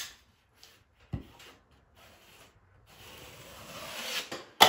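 A drywall trowel drags joint compound out of an inside corner, producing soft intermittent scrapes and rubs, a couple of sharp taps, and a longer rasping pull that builds toward the end, close and quiet.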